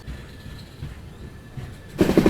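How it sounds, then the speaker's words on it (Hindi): An Amrit Bharat Express train rolls along the track in Kerala near Thiruvananthapuram, a steady low rumble from inside a coach that swells into a louder rhythmic clatter of wheels over rail joints toward the end. "और क्या ही ज़बरदस्त ट्रैक साउंड आ रहा है भाई अपने कोच का"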